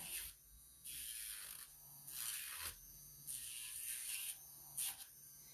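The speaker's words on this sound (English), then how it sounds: "I have a little bit of leeway to Dremel a little bit higher on this." A Dremel rotary tool grinds a dog's nails during home grooming, its high whine rising in several separate bursts of a few seconds each, with quieter motor hum between passes.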